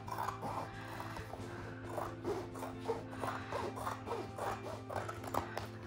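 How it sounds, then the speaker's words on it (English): Scissors cutting paper for a concertina journal, with a steady series of soft rasping snips close by over a constant low hum, no talking. "And you're cutting before that last fold."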